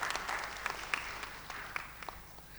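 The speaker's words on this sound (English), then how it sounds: "Please welcome him. Round of applause." An audience at the CFO Next Forum 2024 applauds to welcome a guest on stage, giving a brief stretch of steady, dense clapping heard from across the hall.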